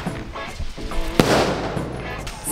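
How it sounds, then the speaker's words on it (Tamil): Firecrackers going off at a family Karthigai Deepam celebration, one sharp crack standing out amid scattered smaller pops and background noise. "இனிமேல் ராகுலின் பட்டாசு ஆட்டம்."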